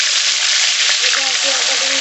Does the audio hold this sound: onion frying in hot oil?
yes